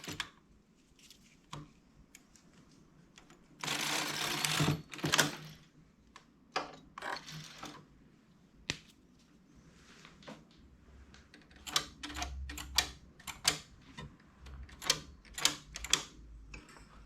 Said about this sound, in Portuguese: faço apenas uma carreira.